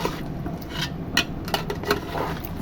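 Fried chicken pieces go into a pan of spiced masala and yogurt, giving soft scraping, clinking and stirring sounds of utensils against cookware, close and moderately quiet with no talking.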